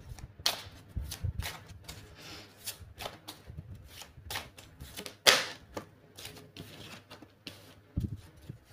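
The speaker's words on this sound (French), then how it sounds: "Je mélange un petit peu." Tarot cards shuffled by hand at close range, a steady run of soft riffling flicks and taps with one sharper snap partway through.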